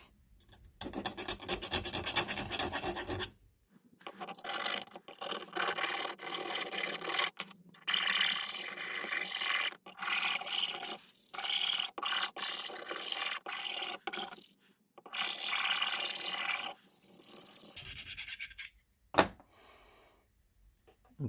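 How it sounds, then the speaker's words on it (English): Hand deburring the chamfer on a Spyderco knife, a quiet close scraping and rasping in repeated strokes with brief gaps, preceded by a faint ticking rattle. "Clean off that burr."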